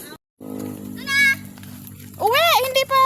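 A goat gives a loud, wavering bleat close by outdoors, following a short earlier call, with voices in the background.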